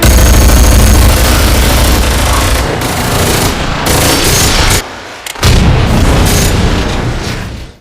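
Loud, dense bursts of gunfire and booming blasts fill a scene from the film Wrath of Man, cut by a brief near-silent gap before the barrage resumes.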